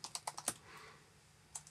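Quick bursts of typing on a computer keyboard during astrophotography image editing, a cluster of sharp close key clicks followed by a pause and then a few more taps, faint and alone.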